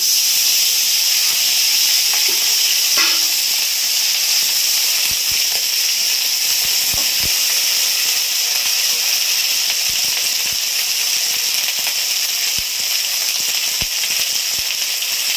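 Cumin and ginger paste hitting a pan of potatoes with slit green chillies, a loud, continuous hissing sizzle held steady throughout, with a few faint clinks and no talking.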